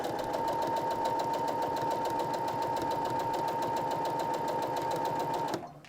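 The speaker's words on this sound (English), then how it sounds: "I'm going to sew all the way down." A sewing machine runs steadily down a quarter-inch seam joining Christmas fabric scraps, a fast even mechanical hum and needle rattle, close and loud, that stops abruptly just before the end.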